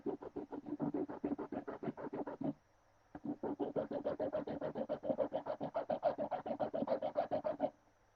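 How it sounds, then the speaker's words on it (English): A rasp files a wooden ring in quick, steady rhythmic strokes, close and fairly quiet, with a brief pause partway through before the scraping resumes. "Go back to the rasp real quick and see if I can't kind of flatten that out a little bit"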